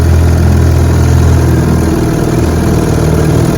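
A 1954 Johnson QD-15 10 HP outboard motor runs on a bayou test, its steady low rumbling drone close and loud throughout, with no voices.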